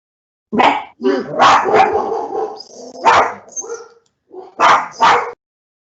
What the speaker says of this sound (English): I muted you for a second while Samson has a bark.